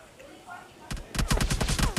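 Gunfire in the PUBG Mobile Lite video game, including AWM sniper rifle shots. A quiet lull gives way to a single sharp crack, then a fast, loud run of repeated shots that fills the rest of the moment.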